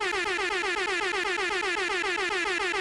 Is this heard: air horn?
yes